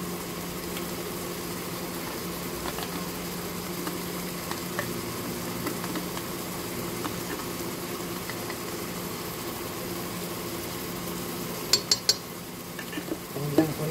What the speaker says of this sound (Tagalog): Ayan po natin at ating haluin.